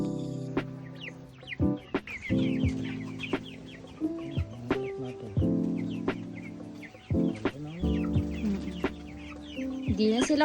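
Hens and roosters on a mountain farm cluck and murmur close by in overlapping bursts, with sharp calls breaking out among the steady chatter of the flock, loud and continuous.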